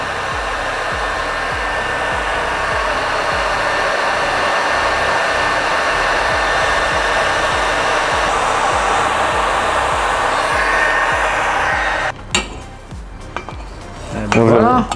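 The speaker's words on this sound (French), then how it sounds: "il faut que je chauffe énormément pour desserrer le tube" A heat gun blows hard and steadily on a motorcycle fork tube to loosen it, a constant loud whooshing roar that holds for about twelve seconds before cutting off, followed by a few clanks and handling noises.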